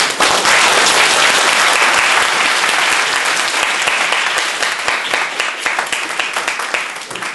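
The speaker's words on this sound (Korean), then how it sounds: "여러분 여기 계신 모든 분들한테 박수를 치면서" A seminar audience breaks into loud, sustained applause, dense clapping from many hands that fills the room and slowly thins toward the end, with no speech over it.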